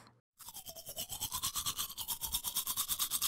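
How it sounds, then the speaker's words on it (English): A toothbrush scrubbing teeth in quick rhythmic back-and-forth strokes, close and clear, starting after a brief silence and speeding up slightly, with no talk. "This is a blue toothbrush. That's right. For brushing your teeth."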